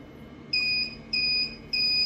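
A coin-operated outlet timer sounds a triple beep during setup: three short, evenly spaced electronic tones, clear and close against a quiet room.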